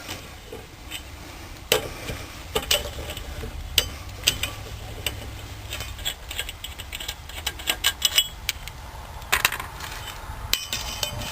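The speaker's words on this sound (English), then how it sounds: "Use your little hubcap to hold your lug nuts to keep them all together." Steel lug nuts from a Chevy Blazer wheel drop one after another into an upturned hubcap, giving scattered metallic clinks and ticks at close range over a low background rumble.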